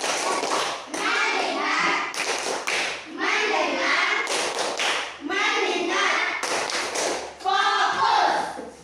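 A primary school class at SDN 15 Batang Anai performs the 'tepuk fokus' clapping chant, with children's voices chanting rhythmically between bursts of group claps and table thumps over several seconds.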